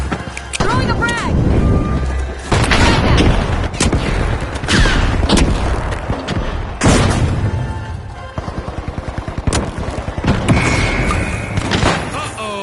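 A frag grenade blast and other sharp impacts in a video game, a series of loud, punchy bursts with a rapid rattling stretch near the end, alongside some talk.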